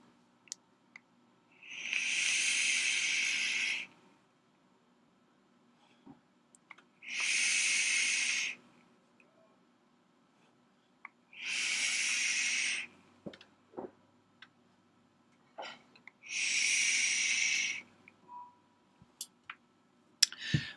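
Four long, steady vape draws on a Footoon Aqua Master RTA with the airflow wide open, at 74 watts on a 0.16 build, each a hissing, airy pull of about two seconds separated by quiet gaps and small clicks.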